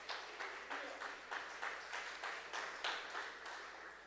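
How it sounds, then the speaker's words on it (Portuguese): A church congregation claps in a steady rhythm, roughly three beats per second, evenly spaced and moderately loud, filling the room. "Pode aplaudir ao Senhor Jesus."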